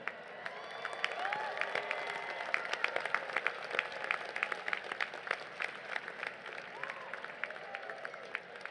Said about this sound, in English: Congratulate yourselves, high-five your neighbors, cheer, and take it in.